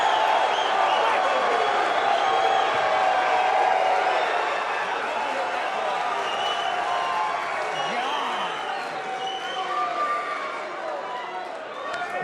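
Spectators at a pool match, a sustained cheering roar that stays loud and then eases slightly, with a voice talking over it.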